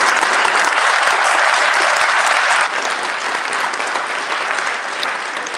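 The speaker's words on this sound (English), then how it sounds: "So huge, massive round of applause for them." Loud, dense applause from an audience at a teachers' event, sustained clapping that drops slightly in level midway but carries on to the end.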